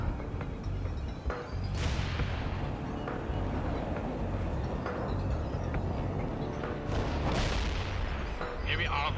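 Tank firing a HEAT round in the strategy game World in Conflict, two sharp cannon blasts several seconds apart with booming decay, over continuous rumbling battle noise and faint voices.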